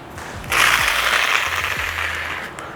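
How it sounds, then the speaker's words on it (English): A jigsaw cuts recycled plastic for a birdhouse roof, a close buzzing rasp that starts abruptly and runs steadily for about two seconds before easing off. "So let's plug in my jigsaw"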